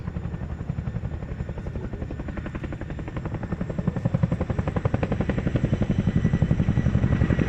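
Steady thudding rotor chop of a Chinook helicopter at an air show, with a deep engine roar, growing louder toward the end as the aircraft nears, no voices.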